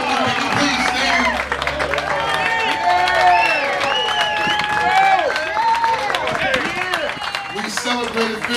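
Audience at the Philly Music Walk of Fame ceremony applauds an awardee, a dense sustained wash of clapping and crowd noise with scattered cheers and chatter running throughout.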